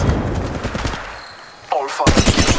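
Rapid automatic gunfire in a shooter video game, loud bursts at the start and again at the end, separated by a brief quieter gap with a whooshing effect.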